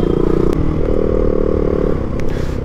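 A motorcycle engine hums steadily at close range while riding through traffic, with occasional clatter and scraping of nearby vehicles.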